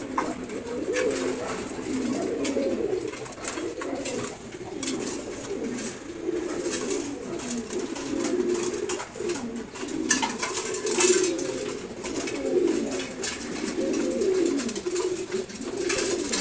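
Giribaz pigeon cooing in a loft, repeated soft throaty coos in an uneven rhythm close by, with faint clatter and other birds in the background.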